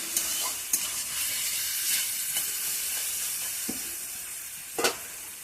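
Potatoes sauté in a pan, a steady close sizzle of frying with occasional clinks and scrapes of stirring, and no voices.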